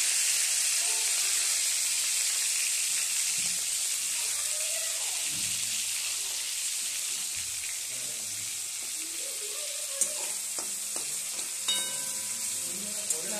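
Ginger frying in hot oil in a pan, a dense steady sizzle and hiss close by with occasional stirring clinks, no speech.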